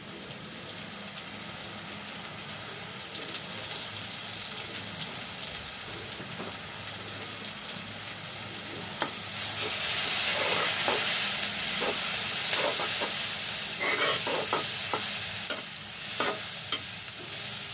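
Ginger garlic paste sizzles in a pan as it is stirred for a kalmi shak stalk curry, a soft steady frying hiss at first, turning louder and crackly with scraping stirs partway through, and no talking.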